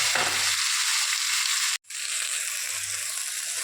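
Spice paste of ginger, poppy seed, cumin and green chilli with tomato, salt and turmeric frying in a pan, a loud dense sizzling hiss close up, briefly cut off midway before resuming.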